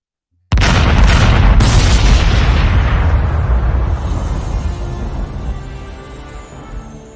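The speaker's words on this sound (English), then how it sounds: "we're going to fire off them cannons one more time" Cannons fired off for a Buccaneers versus Colts football game boom loudly and suddenly, with a couple of quick follow-up blasts before a long rolling rumble slowly fades away. No voices are heard.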